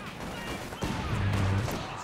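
Rapid machine-gun bursts in a Company of Heroes 2 four-versus-four battle on Redball, a dense rattling volley filling the short moment with a low thumping undertone.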